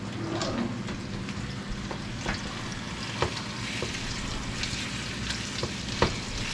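Garlic chicken frying in a pan over high heat, a steady crackling sizzle throughout with occasional sharper pops and light scrapes, close and moderately loud with no talking.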